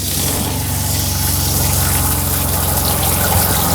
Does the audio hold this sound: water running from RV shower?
yes